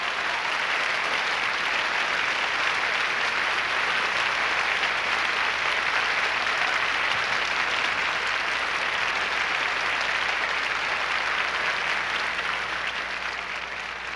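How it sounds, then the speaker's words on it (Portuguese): A church congregation at a Jimmy Swaggart Ministries service applauds loudly and continuously for about fourteen seconds, a thick, steady wash of clapping that barely fades at the end. "Vamos aplaudir Jesus."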